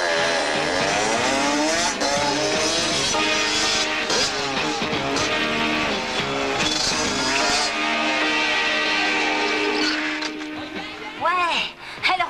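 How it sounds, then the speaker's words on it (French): A cartoon motorcycle roars along with rising and falling engine revs and squealing tires, loud and continuous, mixed with music and voices talking over it. "C'est une moto terrible."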